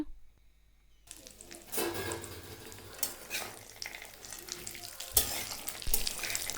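Urad dal mixture roasting in a pan for laddoos, starting after a brief silence, then a steady close sizzle with stirring scrapes and occasional sharper clinks, no talk.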